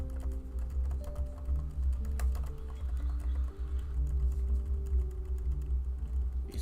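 Rapid clicking of fingers typing on a computer keyboard, an irregular patter of light keystrokes close to the mic over a low background hum, with no speech.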